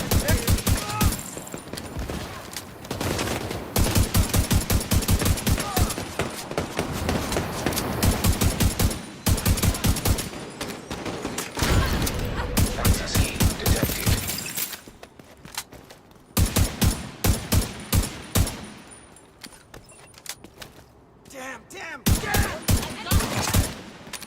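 Automatic gunfire in Tom Clancy's The Division 2, with long rattling bursts of rapid shots that come close and loud, break off into scattered single cracks and pauses, and have a voice talking over them at times.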